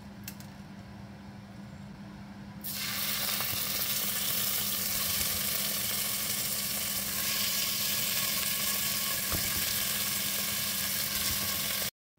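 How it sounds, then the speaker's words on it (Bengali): Chicken pieces with whole black peppercorns frying in a spoonful of olive oil, a quiet hiss that jumps to a loud, steady sizzle as the meat hits the pan and holds unbroken for about nine seconds. "এবার এটাকে একটুখানি তেলের মধ্যে ভাজা ভাজা হতে দেব"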